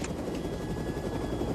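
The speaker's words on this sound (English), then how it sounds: "I want you to land this helicopter." A helicopter in flight in a crime thriller scene, a steady continuous rotor drone filling the whole moment at moderate level with no voices over it.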